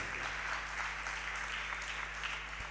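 Audience applause at a Jain religious discourse hall, a steady dense wash of many hands clapping together, continuous and fairly even throughout, with a low electrical hum underneath.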